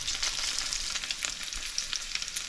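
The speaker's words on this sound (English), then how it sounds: "this way, see, it's like sizzling, but it's not really splattering" Bacon frying in a home kitchen pan, a dense continuous crackling sizzle with steady fine popping, close and fairly loud with no voices.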